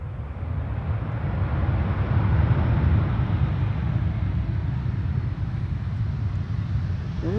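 An Air China Cargo airliner arriving from Chengdu lands on Schiphol's Polderbaan runway 18R, giving a steady broad jet roar with a brief thrust-reverser spool-up, heard from outdoors at moderate distance with some wind.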